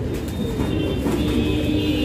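Pigeons with green necks, a cross-bred Saharanpuri Bajre breed, coo in a steady low murmur close by under a constant background hum, with no talk.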